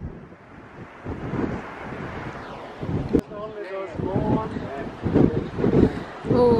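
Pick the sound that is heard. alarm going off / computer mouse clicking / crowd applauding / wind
wind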